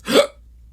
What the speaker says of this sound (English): That was a hiccup grenade.